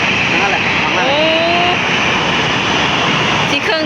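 An Air Force passenger transport airplane flies over an airport in Thailand with a loud, continuous engine roar and jet whine that fills the whole stretch, while voices are heard underneath.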